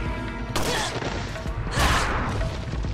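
Rapid bursts of gunfire from weapons in Resident Evil 4, loud and close, with dense repeated shots and a heavier crash of fire near the middle.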